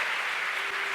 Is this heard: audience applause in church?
yes